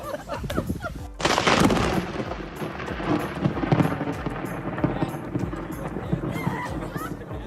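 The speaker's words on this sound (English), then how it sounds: "this groom managed to get an incredible effect when a lightning hit right after he said 2020 has not been the best year" A lightning strike cracks sharply during an outdoor wedding speech, and the thunder rumbles and rolls on for several seconds while voices carry on faintly underneath.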